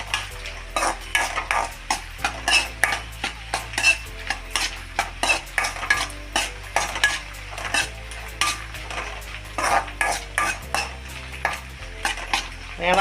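Chicken for kondattam sizzles in a pan while a utensil stirs it, with steady frying hiss broken by repeated rhythmic scraping and clinking strokes, close and fairly loud, no voices.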